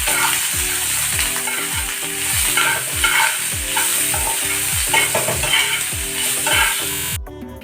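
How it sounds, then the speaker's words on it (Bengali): Onions, salted, fry in a pan with a loud continuous sizzle, while a spatula scrapes in regular strokes about twice a second throughout, cutting off sharply at the end. "আমার কিন্তু পেঁয়াজটা বেশ সুন্দরভাবে ভাজা হয়ে গেছে"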